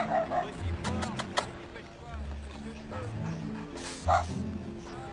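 A dog barks and yips a few times in a scene from a French romantic film, short bursts close by mixed with people speaking and some background noise.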